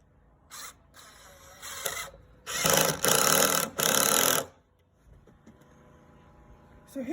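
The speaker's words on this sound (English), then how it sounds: "I'm going to attach the end pieces and just screw those again with 2 screws into the upright also" Cordless drill driving screws into wooden planks of a raised garden planter, several short whirring bursts followed by a longer sustained drive, close and fairly loud, with quiet gaps between.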